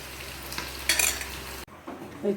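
Chicken 65 deep-fries in hot oil with a soft sizzle and bubbling, while utensils scrape and stir briefly near the pan.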